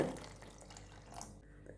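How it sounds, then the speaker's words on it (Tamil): Water is poured into a pan of cooking lotus seed masala gravy, a short splashing pour that tapers off after about a second, heard alone. "ஒரு அரை கிளாஸ் தண்ணியை சேர்த்துக்கோங்க"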